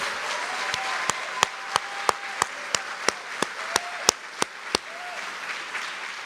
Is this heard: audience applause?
yes